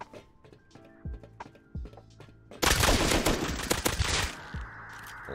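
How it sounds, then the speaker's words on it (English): Nail gun fire in the survival game Rust, a series of sharp, evenly spaced shots followed by a loud dense burst of gunfire noise, with no talking. "This is where the nail gun's gonna come out."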